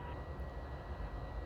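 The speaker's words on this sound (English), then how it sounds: "our furnace is running to try and keep things warm" A furnace runs steadily in a cold workshop, a constant low roaring rumble with a broad hiss, close and fairly loud with no talking.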